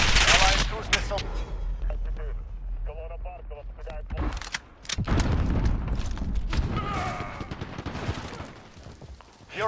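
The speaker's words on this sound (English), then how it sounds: "Allied cruise missile." Cruise missile strike in Call of Duty: Modern Warfare multiplayer: loud booming blasts and rattling gunfire pile up into a heavy explosive burst midway, with dense battle noise and game voices running throughout.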